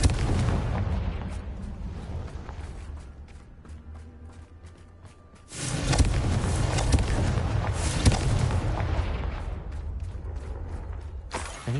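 A Confringo spell explodes in Hogwarts Legacy: a sudden loud burst midway, followed by rumbling debris and crackling that persists, after a quieter stretch of ambient rumble and clicks.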